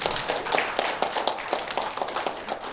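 Audience applause at an Indonesian e-commerce gathering, steady overlapping hand claps of moderate loudness filling the whole moment, with no talking over them.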